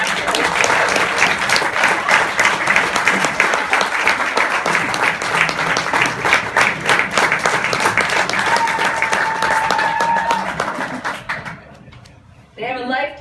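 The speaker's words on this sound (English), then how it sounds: "you can clap." Sustained audience applause at the 2018 Racial Justice Awards ceremony, a dense steady roar of many hands clapping for about eleven seconds before fading out, with brief talk at the end.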